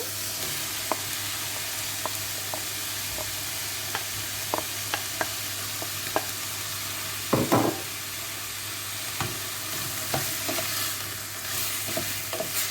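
Peppers frying in a pan for salsa, a soft continuous sizzle with scattered scrapes and knocks of a utensil stirring, one louder clatter midway, close and steady.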